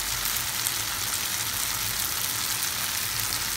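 Onions sizzle and fry steadily in a hot pan for a Kerala-style king fish curry, a continuous close, crackling hiss with no talking.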